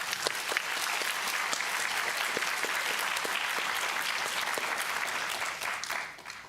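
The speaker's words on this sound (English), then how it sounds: "So perhaps I'll give CJ a round of applause first" An audience at a diversity and inclusion symposium gives a sustained round of applause for a speaker, a steady even wash of many hands clapping that tapers off at the very end.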